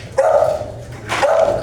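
Two sharp dog barks, a short pause between them, fairly close and clear with no talking.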